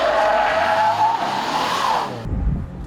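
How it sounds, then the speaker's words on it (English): All-wheel drive car doing a handbrake turn on pavement around a tight obstacle: a loud, sustained tire squeal and engine roar that drops away abruptly at the end, leaving a low rumble. "using the handbrake to initiate a drift in an all-wheel drive car on pavement around a tight obstacle"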